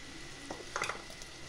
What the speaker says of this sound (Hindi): मेरा तेल गर्म हो चुका है, अब हम इसमें ये बारीक कटे हुए प्याज, जो मैंने प्याज को क्रश कर लिया था चॉपर में,